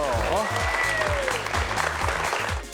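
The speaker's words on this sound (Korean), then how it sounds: "자, 오늘의 주인공 두 분을 큰 박수로 모시겠습니다." Audience clapping in a Korean lecture hall as two geology professors are welcomed onto the stage, a steady dense wash of applause filling the short stretch, with a host's voice speaking over it.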